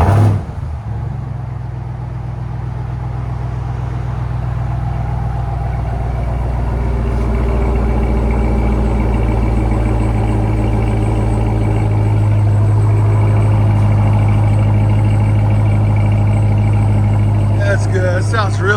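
A 2021 Ram TRX pickup with Flowmaster Super 10 true dual exhaust idles with a loud, deep rumble that swells steadily as the engine is revved, heard close and continuous throughout.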